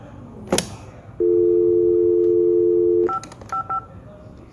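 An IP phone on a PoE line: one steady keypad tone held about two seconds, then a few short dialing beeps, close and clear, with a click and faint room hiss around them.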